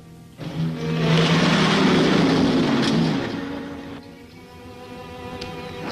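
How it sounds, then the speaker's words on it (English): A car approaches in a 1956 film scene: a broad, loud engine whoosh swells up, holds for a couple of seconds, then fades away, leaving a quiet background. "I hear a car."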